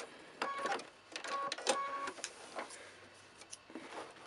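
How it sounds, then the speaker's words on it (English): A domestic sewing machine quilts through the padded layers of a fully lined tote bag in brown thread, its motor buzzing in several short bursts with brief pauses between them, close and fairly quiet. "we're sort of quilting the bottom of our bag now"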